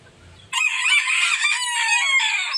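Brooding hens on a farm give loud, close, continuous clucking and squawking that breaks in suddenly and runs steadily to the end, with a faint low rumble just before it starts.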